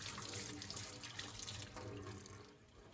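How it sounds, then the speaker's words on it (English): Tap water running steadily into a kitchen sink while asparagus is washed, a faint continuous splashing stream with slight fluctuations and no speech. "I washed the asparagus"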